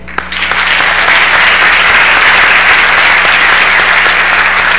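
A church congregation bursts into loud, sustained applause for the pastor, a dense wall of clapping that starts abruptly and holds steady, with no talk over it.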